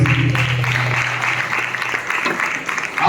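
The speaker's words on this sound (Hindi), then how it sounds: "ताली वाला धन्यवाद करेंगे।" A church congregation at a Christmas service bursts into steady, dense clapping in thanks, a continuous wash of hands from a large crowd with a low voice briefly underneath at the start.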